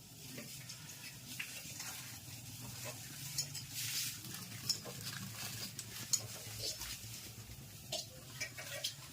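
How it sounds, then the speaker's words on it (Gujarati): Puris for pani puri deep-frying in hot oil at home, a steady soft sizzle and bubbling with occasional stirring clinks and scrapes, close and moderately quiet with no talk. "તૈયાર પૂરી આવે પછી આપણે ઘરે તળવાની."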